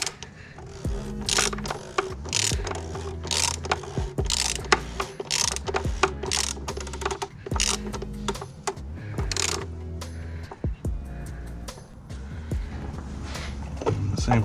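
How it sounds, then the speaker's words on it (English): Ratchet tightening the plastic oil filter housing on a 2005 Volvo S40 with the 2.4L engine, steady repeated close pawl clicks in a continuous rhythm, with someone talking over it. "I'm going to go ahead and tighten down its housing."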